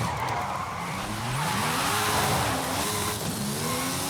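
Race cars in a Forza Horizon 5 drag race, engines revving and rising in pitch through the gears with tire squeal, loud and continuous.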